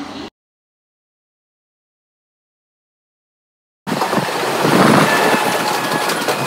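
Train ride toward Dadar station in Mumbai, with steady loud rumbling of a moving train and carriage noise after a long stretch of silence, no talking.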